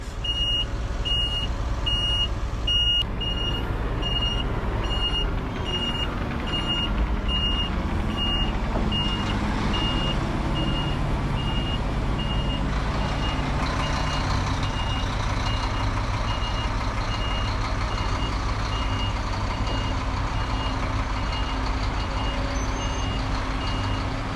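A Hyundai 30-ton truck moving at a landfill, its reversing alarm beeping steadily in a regular rhythm over a continuous loud diesel engine rumble, with no talking.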